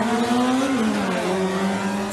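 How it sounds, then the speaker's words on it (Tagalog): Two cars roar off together in an illegal late-night drag race on Marcos Highway in Pasig, a loud sustained engine whine climbing in pitch as they accelerate, with no voices. "sabay nang humarurot ang dalawang kotse"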